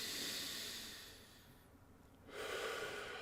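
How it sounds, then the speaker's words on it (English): A slow breath drawn in through the nose for diaphragm breathing, an airy close-up hiss that fades to a pause and then resumes strongly, with no talking. "The goal is to breathe in through your nose"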